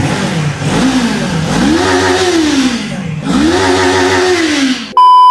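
A 2024 Kawasaki Ninja 500 motorcycle engine revs loudly and close, climbing and falling twice in smooth swells before cutting off abruptly.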